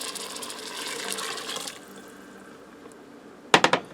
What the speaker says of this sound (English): I'm going to add in 2 cups of beef broth.